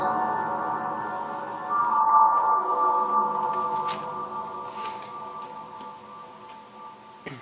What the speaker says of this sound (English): this one is a pitch feedback, so there's a feedback loop with a pitch shifter in it